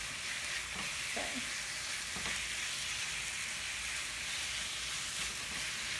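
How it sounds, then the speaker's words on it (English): Food frying in olive oil in a pan for a meal-prep salmon dinner, a constant loud hiss of sizzling with a few faint stirring scrapes early on. "I'm going to add a little bit more olive oil, just so nothing sticks. And I'll go ahead and give it a nice stir."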